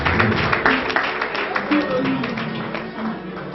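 Audience applause at the Trophée Kongo award ceremony, a steady patter of many hands clapping under a loud voice speaking over it.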